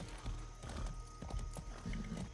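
Horse hooves clip-clop through the open world of the video game Far Cry 6, a quiet, uneven string of soft thuds with a faint horsey whinny mixed in.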